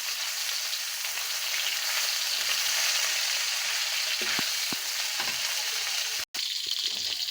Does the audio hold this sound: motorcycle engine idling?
no